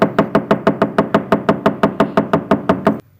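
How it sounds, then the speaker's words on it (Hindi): Steady, loud knocking on a door, about fifteen evenly spaced raps in a row, close and alone, stopping abruptly. "वो थोड़ी देर तक दरवाज़ा खटखटाता रहा।"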